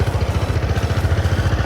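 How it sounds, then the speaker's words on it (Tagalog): A KYMCO Racing 150cc scooter engine, a 2015 special model, starting up and running with a steady low, throbbing pulse and mechanical clatter, close and loud with no voices. "Ngayon, papaanda rin namin para marinig nyo po yung sa makina."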